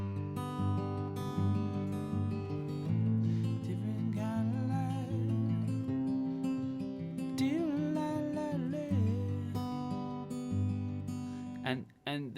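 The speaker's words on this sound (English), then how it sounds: "So the picking pattern that I'm going to use as a basis throughout the song is PIPM and PMPI." Steady fingerpicked acoustic guitar pattern, thumb and fingers alternating in an even, mechanical rhythm with sustained chords, played close and clear with no talking.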